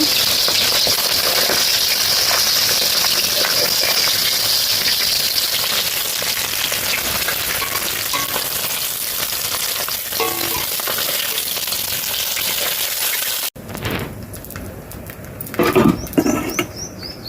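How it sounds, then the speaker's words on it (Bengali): Loud, steady sizzle of large catla fish pieces frying in oil fills most of the clip, then cuts to quieter crackling with scraping and clinks of a spatula. "এখন মাছগুলো ভালো করে লাল লাল করে ভেজে নেব"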